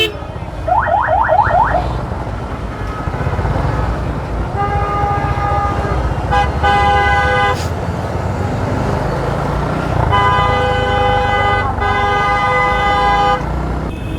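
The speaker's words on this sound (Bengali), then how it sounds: "মানে সবাই যে যেমনে পারতেছে হর্ন বাজাইতেছে।" Many vehicle horns honk in a Bangladeshi traffic jam, short toots and longer sustained blasts overlapping in bursts over a steady roar of engines and road noise, close and loud throughout.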